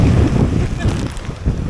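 Big sea waves and strong wind at a beach during monsoon weather where children are swimming, giving a loud, continuous low roar and rumble with wind buffeting the microphone.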